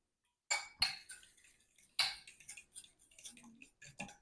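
A fork clinks and taps against a bowl while ingredients are mixed, giving a series of sharp, irregular metallic ticks. The scraping strokes are close and fairly quiet, with no talking.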